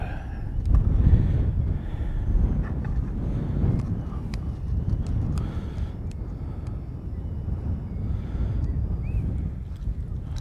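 Wind gusts on the coast by an abandoned jetty during lure fishing, producing steady, heavy rumbling and buffeting that stays loud and continuous throughout, with no one speaking.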